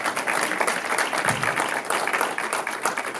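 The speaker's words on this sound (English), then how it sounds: "Can I get a huge round of applause for A Second Embrace?" Audience at a film festival Q&A applauding a film, a dense, loud, sustained wash of many hands clapping that holds steady throughout.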